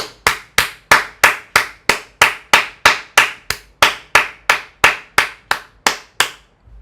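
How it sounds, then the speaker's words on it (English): Steady single-person clapping during a live market stream, about twenty sharp, evenly spaced claps, close and clear with no talk over them. "But everybody give a clap to Gumbo."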